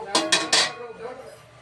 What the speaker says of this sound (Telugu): గ్యాస్ అంటున్నానండి, గిన్నె పెడుతున్నాను.